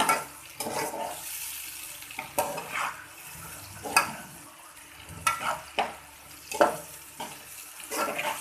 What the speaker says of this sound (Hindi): और अब हम प्याज को अच्छे तरीके से फ्राई कर लेंगे।